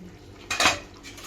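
Cashew curry being stirred in a pot, a brief scraping clatter of a spoon against the metal pot that swells and fades over about a second, close and alone.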